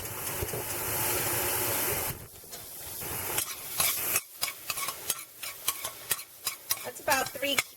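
Chopped garlic, about three cloves, sizzling in a hot pan for soup, first a steady frying hiss, then a run of close, sharp scraping and clinking strokes of a utensil stirring against the pan.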